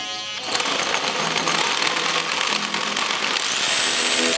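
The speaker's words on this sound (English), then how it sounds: "I'm about to now do the 7/8 inch bit so I can drop the anchor in." A power drill with a 7/8 inch bit bores an anchor hole into a concrete garage floor, a loud, steady grinding whine that starts abruptly and runs without a break, close by with no talking.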